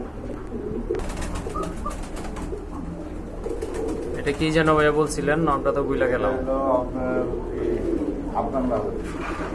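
Large caged pigeons, including Afghan Lahori birds at a market, coo in soft repeated rolling calls nearby, mixed in with people talking close by.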